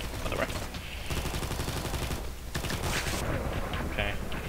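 Rapid bursts of MAC-10 submachine gun fire in the Combat Master shooter game, dense and loud, broken by brief gaps between volleys.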